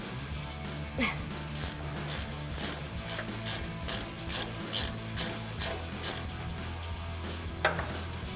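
A wrench ratchets in a steady series of sharp clicks, about one to two per second, while working the end link nut on a Toyota Tacoma suspension, close and clear over a low background hum.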